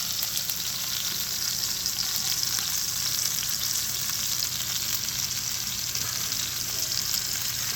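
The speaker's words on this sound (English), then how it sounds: "I just wanted a nice quick sear on it" A chuck roast sears in a hot pan with a loud, even, continuous sizzle that holds steady throughout, close-up and with no talking.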